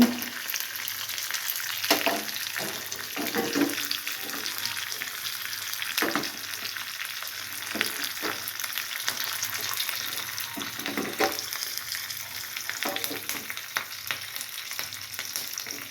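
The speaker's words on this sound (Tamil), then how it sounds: "சீரகம் கொஞ்சம் போட்டுட்டு கருவேப்பிலை போட்டு" Cumin seeds and curry leaves frying in hot oil in a pan for tempering, giving a steady, dense crackling sizzle with scattered pops and a few stirring scrapes throughout.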